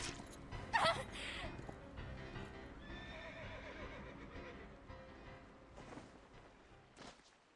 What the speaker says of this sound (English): I'll get the horse.